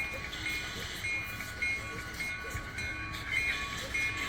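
A train moving during switching operations, with a faint, low rolling rumble of railcars under a thin tonal whine, quiet and steady with soft bumps.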